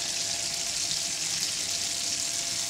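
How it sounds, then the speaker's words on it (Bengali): Panch phoron spices sizzle in hot oil as they go into a pan for a sweet pumpkin curry, giving a steady, even hiss that runs alone and unbroken. "সেই তেলেই আমি দিয়ে দিচ্ছি 5 ফোড়ন, 1 টেবিল চামচ 5 ফোড়ন আমি দিয়ে দিচ্ছি"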